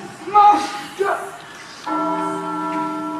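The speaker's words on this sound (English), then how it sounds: "Now sound the bells and send the city to sleep" Bells ring out over a city in a Hunchback-themed scene, with a sustained, resonant tolling tone that swells after a spoken line at the start.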